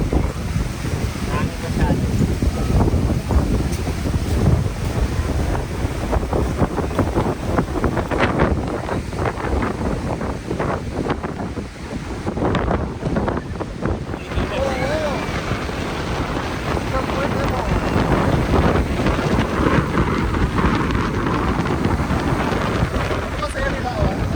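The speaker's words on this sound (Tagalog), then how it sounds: "Hangin masyado." Strong wind in Vancouver, Canada roars and buffets the microphone in a steady, loud rush for the whole stretch, with voices faintly mixed in.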